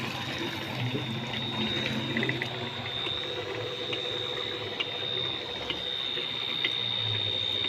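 An electric water pump motor drives a tube well irrigating a wheat field, a steady continuous hum with a high whine and churning water noise, constant and fairly distant, no talking.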